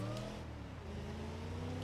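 Van engine in the BeamNG Drive video game revving hard at high, steady pitch near its limit, a loud sustained harmonic whine heard alone.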